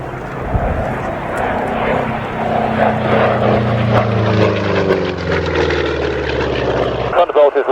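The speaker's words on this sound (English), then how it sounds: "Thunderbolt is reversing for last pass" A P-47 Thunderbolt propeller fighter roars through a pass at an airshow, a loud droning engine note that swells and shifts in pitch as it goes by, cut off abruptly at the end.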